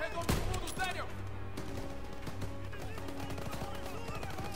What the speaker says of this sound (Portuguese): Principalmente os tiros de rifle.